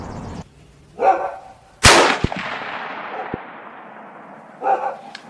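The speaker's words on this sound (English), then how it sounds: "Let's go ahead and take one more shot." A single loud .338 Win Mag rifle shot firing Federal ammunition at a target range, a sharp crack followed by a long fading echo.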